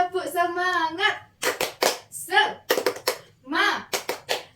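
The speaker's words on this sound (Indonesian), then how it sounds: "kita tepuk semangat dulu yuk" A sixth-grade elementary class doing a rhythmic spirit clap: chanted voices alternate with bursts of sharp, close hand claps in a quick patterned rhythm, with the voices dominating.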